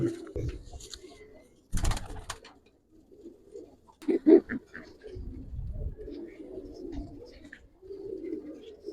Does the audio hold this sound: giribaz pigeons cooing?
yes